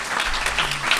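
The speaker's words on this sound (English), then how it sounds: "Let's applaud these." A live audience at a Shakespeare forum event applauds the panel with a dense, even wash of clapping that holds steady for about a second.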